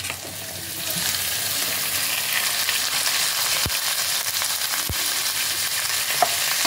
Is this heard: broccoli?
yes